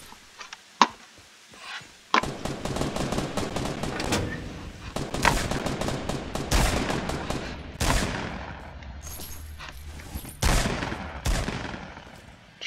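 Players shooting each other in the video game Fortnite, a few sharp isolated shots at first, then loud repeated gunfire volleys and bursts with short pauses, fairly close.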